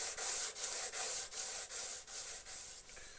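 Sandpaper rubbing along the edge of an acrylic glass sheet, even back-and-forth strokes about every half second, close and steady with no talking.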